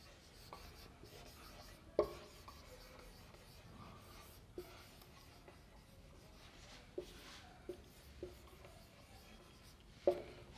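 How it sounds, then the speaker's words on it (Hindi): Handwriting on a board or paper during a Hindi children's lesson on festivals: faint continuous scratchy strokes with a few soft taps, quiet and close, with no talking. "इसको फिर मैं एक बार लिख दे रहा हूँ"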